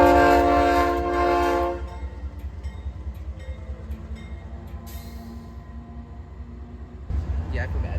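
Train horn blasting from a backing locomotive in a New Orleans rail yard, a loud sustained chord for nearly two seconds, then rumbling wheels and clanks, with a sharp burst near the end.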